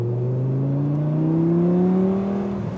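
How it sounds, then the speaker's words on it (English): Audi R8 V10 engine with R-tronic gearbox, heard as a steady, loud tonal drone whose pitch climbs smoothly over a few seconds and then eases off near the end, heard close and with no talk over it. "And this blips nicely on the downshifts for you when you're at higher revs, the R-tronic box."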